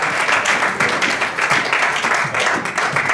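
A church congregation applauds in a dense, sustained wash of many hands clapping at once, steady and fairly loud throughout the moment.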